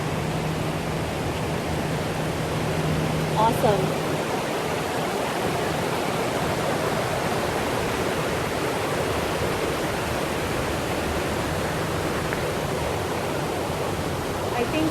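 Water pouring down a waterfall in a Dallas, Texas park, a steady full rushing roar throughout, with a voice briefly speaking over it.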